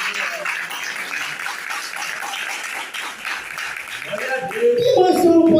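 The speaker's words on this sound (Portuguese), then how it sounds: "vale até uma salva de palmas aí para Jesus" A church congregation applauding, a steady wash of clapping from many hands heard from within the crowd, with a voice speaking over it.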